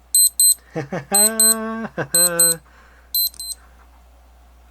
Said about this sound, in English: then push your crown in and the alarm turns off